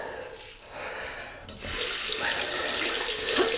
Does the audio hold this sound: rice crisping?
no